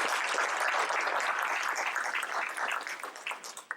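Audience applause from a volunteer gathering at a hospitality training session: dense, steady clapping from many hands that holds throughout and thins slightly near the end.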